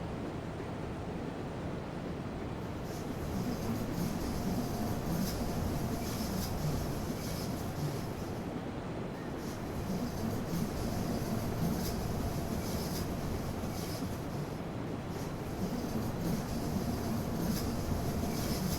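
A train in Train Simulator Classic rolls on the line from Tirano toward Poschiavo as it approaches La Presse station, producing a continuous rumble and rushing rail noise with faint rhythmic clacks throughout.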